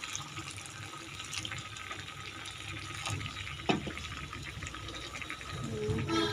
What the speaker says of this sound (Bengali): একটু গরম পানি দিয়ে একটুখানি রান্না করে নেব।